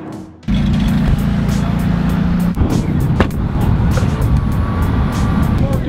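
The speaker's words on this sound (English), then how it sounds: "Dude, your car is so loud." A loud car engine with a rough, diesel-like tone runs steadily close by, a constant heavy rumble throughout.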